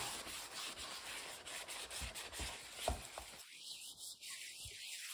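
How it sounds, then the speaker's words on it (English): A sponge loaded with Bar Keepers Friend cleanser rubs across a skillet in steady, rhythmic scrubbing strokes, close and moderately loud, until it stops abruptly near the end, leaving only faint gritty movement. "put it on the sponge like that, and then you rub it into this skillet"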